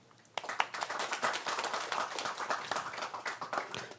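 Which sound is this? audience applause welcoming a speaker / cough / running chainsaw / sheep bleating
audience applause welcoming a speaker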